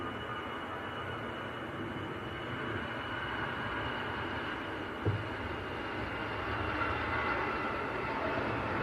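EasyJet Airbus A319 heading for Belfast at Manchester Airport, a steady low rumbling engine drone with a brief thump midway, distant and even, with no talking.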